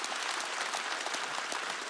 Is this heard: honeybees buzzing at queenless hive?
no